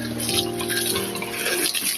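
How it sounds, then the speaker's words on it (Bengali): Water runs from a hose pipe onto a concrete pillar, a steady close splashing and gushing flow that continues without a break, loud and alone, with no voices. "এখন এই পাইপ দিয়ে দিচ্ছি পিলারের জল"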